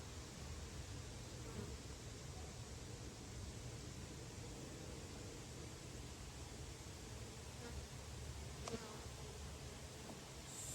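Honey bees drone in a steady, dense buzz around an open hive during an inspection, a continuous close hum with faint handling knocks from frames being moved.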